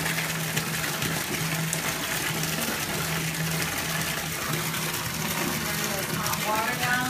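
A bathtub fills with hot running water, a steady gushing rush throughout with a low hum beneath it.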